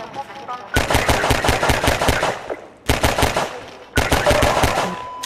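Rapid automatic gunfire in the video game Half-Life 2, loud close bursts of rattling shots in three runs separated by short pauses.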